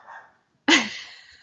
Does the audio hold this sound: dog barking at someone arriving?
yes